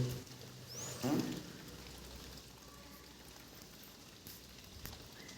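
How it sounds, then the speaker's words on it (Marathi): Heavy rain falls steadily as a soft, even hiss on surfaces, heard from a little distance, with a brief louder clatter near the start, while puris fry in a Konkan kitchen. "पाऊस पण खूप आहे"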